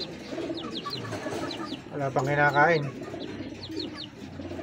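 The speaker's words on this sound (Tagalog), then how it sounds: "So tingnan natin yung kalapati natin, baka bumaba na." Racing pigeons coo softly and repeatedly in a loft, a low throaty rolling call standing out near the middle of the clip, with other faint bird calls and someone speaking briefly around it.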